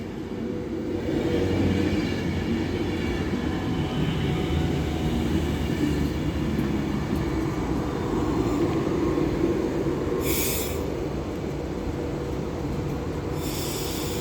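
An electric Class 390 passenger train arriving at Stoke-on-Trent station on the West Coast Main Line rumbles steadily past close by, wheels droning on the rails with faint squeals and a couple of brief high hisses near the end.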